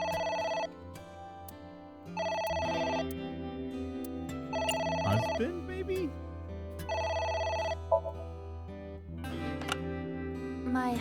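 A telephone in the video game AI: The Somnium Files rings in loud repeated bursts, several rings separated by short pauses, with a voice speaking between and over them and game music underneath.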